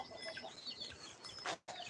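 A chicken clucks softly and repeatedly at a distance, the faint calls drifting over a quiet background.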